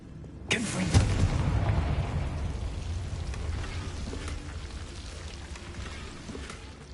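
A Confringo spell explosion in Hogwarts Legacy bursts with a sudden loud boom, then fades into a long crackling, rumbling tail of debris that lasts several seconds, with no voices.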